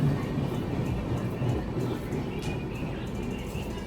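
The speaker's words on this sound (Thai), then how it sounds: "นี่รถไฟมาพอดีนะคะ" A train arriving at a small-town station in rural India rumbles steadily nearby, a continuous low rolling noise with faint higher clanks and squeaks over it, no talking.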